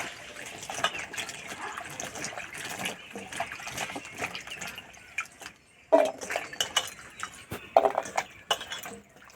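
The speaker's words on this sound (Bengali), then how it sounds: "কুমড়োটা কেটে নিয়ে এসে পরিষ্কার করে ধুয়ে নেব।" Cut pieces of ripe ash gourd are washed in water, with soft sloshing and trickling throughout and two louder splashes near the end, close by and without talk.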